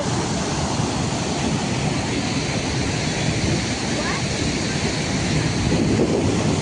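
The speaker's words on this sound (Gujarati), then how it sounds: "આપ જોઈ શકો છો નદીની અંદર પાણીની ભરતી ખૂબ છે." Loud, steady rushing of a flooded river's fast-flowing water fills the whole clip, a broad continuous roar with gusty wind buffeting the microphone.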